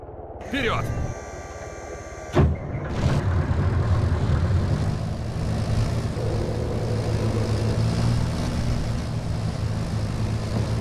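Steady engine drone of a helicopter in the video game Arma 3 rumbling throughout, with a sharp thump near the start and a brief tonal sweep early on.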